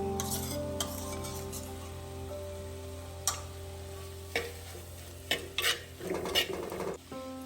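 Onions and ginger-garlic paste sauté in a pan for pepper chicken, a steady sizzle broken by several sharp scrapes and clinks of a spoon stirring against the metal, close and fairly loud with no talking.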